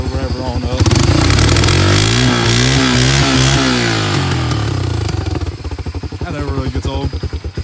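A motorcycle-style engine with holes in its exhaust revs up loudly with a rough, popping exhaust, rising and falling in pitch, then settles into a choppy, throbbing idle.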